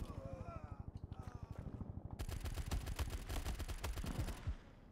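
Rapid automatic gunfire from a World War 2 mobile shooter game, with a steady chattering burst that gives way to a denser, louder barrage of overlapping shots.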